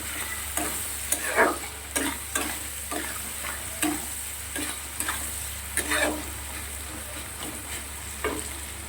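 Steady sizzling of onions frying in a pan, with repeated scraping and stirring strokes of a utensil, close and moderately loud, no voices.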